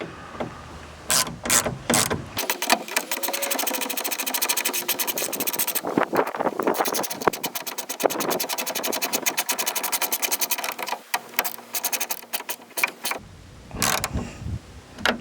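Screws being tightened with a ratcheting tool while fitting a MOPAR roll-up tonneau cover on a 2020 Jeep Gladiator, a fast, continuous mechanical clicking close up that stops briefly then resumes, with no speech.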